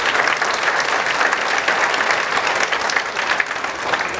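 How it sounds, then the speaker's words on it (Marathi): Applause from a crowd at a free spectacle distribution program for patients, loud and continuous throughout, a dense unbroken patter of many hands clapping. "खरं म्हणजे टाळ्या माझ्यासाठी नव्हे तर त्यांच्यासाठी"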